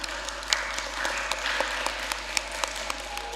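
Audience applause following a debate at a communication studies department meeting, a moderate crowd clapping steadily with scattered sharper claps, somewhat distant in a room, with no voices.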